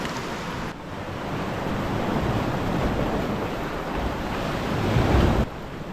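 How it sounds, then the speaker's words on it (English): Sea waves wash along the Durham coast in a steady broad rush of surf mixed with wind buffeting the microphone, swelling slightly toward the end before a sudden drop. "There's not many waves coming in"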